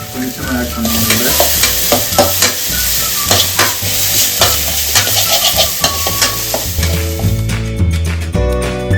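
Ginger garlic paste sautéing and sizzling loudly in a hot pan for a Tamil-style dynamite chicken, with steady frying hiss and repeated stirring scrapes throughout.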